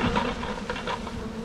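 Honeybees, somewhat riled, buzzing in a steady close hum that fills the whole short moment with no talk.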